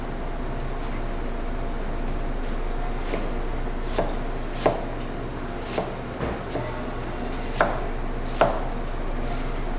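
A knife chops an onion on a board with about eight sharp, evenly spaced knocks over a steady low hum, loud and close, with no one talking.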